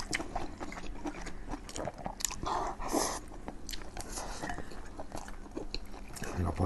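Close, wet chewing and biting of enoki mushrooms and fatty beef in sesame sauce, with steady crunchy mouth sounds throughout and faint voices murmuring underneath.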